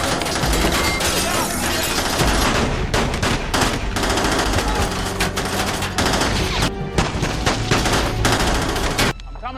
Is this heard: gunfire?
yes